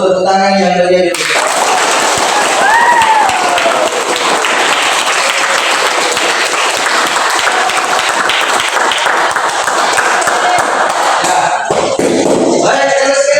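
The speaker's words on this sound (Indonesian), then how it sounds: "tepuk tangan yang meriah dulu." Loud, sustained applause from a large audience at a teacher training program event in Semarang, many hands clapping densely for over ten seconds, with a few faint voices and a brief break near the end before clapping resumes.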